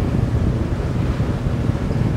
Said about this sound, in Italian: serie di onde al traverso